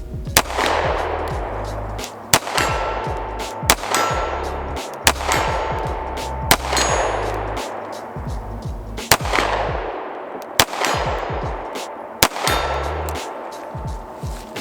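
Rapid pistol shots from a short-barreled Bul Armory SAS2 Viper at an outdoor range, about a dozen sharp reports in quick strings with ringing decay, loud and close.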